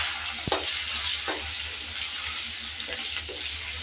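Onions and a few dried chillies hit a hot pan in an Assamese kitchen, giving a steady close sizzle with a couple of brief spattering bursts as they go in.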